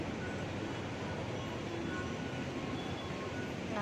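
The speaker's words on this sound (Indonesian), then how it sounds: "ini namanya terminal stasiun" Steady broadband rumble of a busy train station in heavy rain, with a constant wash of indistinct noise and a faint tonal squeal near the end.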